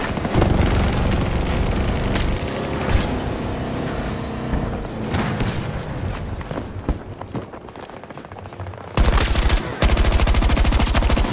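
High power rounds in a shooter game fire in rapid automatic bursts, a loud, sustained rattle of gunshots mixed with running footsteps and vehicle noise, with heavier volleys breaking out near the end.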